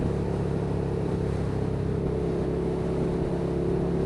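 A Suzuki SFV650 Gladius V-twin motorcycle engine runs steadily at raised revs, a continuous droning hum with a slight dip in pitch midway, close and alone.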